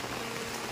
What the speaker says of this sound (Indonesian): Hujan deras mengguyur pedesaan yang indah